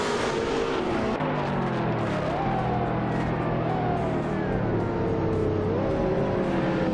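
Pack of racing cars, including a 2012 Pagani Huayra, launching at the start of a race at Fuji Speedway Short in a video game, loud layered engines revving and climbing through gear changes.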